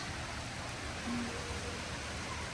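Steady rain falls in Hamburg, Germany, a soft continuous hiss of drops on surfaces at moderate, even loudness.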